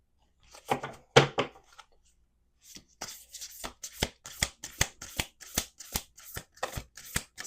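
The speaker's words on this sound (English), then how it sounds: "We're going to do 2 more shuffles here." A deck of tarot-style cards shuffled by hand: a few quick riffles, a pause, then a steady run of sharp card snaps and taps, close and quiet with no talking.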